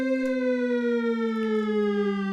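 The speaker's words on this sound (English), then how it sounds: "we would play like a super high note and then play a super low note" A single mono lead synthesizer tone with a buzzy, harmonic-rich timbre glides from a high note down to a low note, steady and sustained for a couple of seconds.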